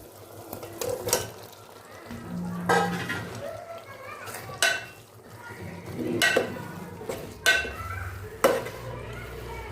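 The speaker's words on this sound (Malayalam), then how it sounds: "ഇനി അതിലേക്ക് നമുക്ക് ഫ്രൈ ചെയ്ത് ചിക്കൻ ഇട്ട് കൊടുക്കാം" Fried chicken tossed with onion and capsicum in a pan for chilli chicken, with repeated loud scraping stirs of a spatula over a steady sizzle, heard up close.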